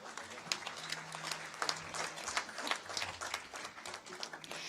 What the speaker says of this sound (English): Let's reminisce this unique moment with a huge round of applause for all our guests on the stage.